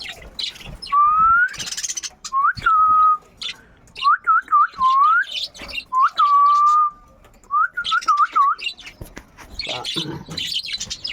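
Pet parakeets and cockatiels chirp and whistle in repeated rising bursts, fairly close, with busy chatter between calls.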